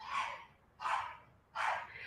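A dog in the background gives three evenly spaced hoarse, breathy barks, each rough and strained, moderately faint and distant.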